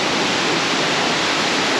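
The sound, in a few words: Sumampan waterfall in Ubud, Bali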